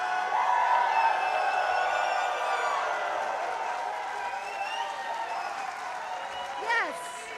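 A convention panel audience at PAX West cheers and applauds loudly, a dense wash of clapping and crowd noise that slowly fades, with a host's voice and whoops rising over it near the end.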